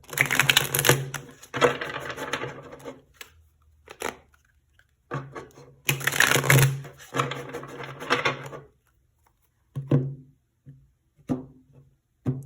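Bursts of crisp card shuffling, riffles and rustles in several rounds with short pauses between, close by and fairly loud.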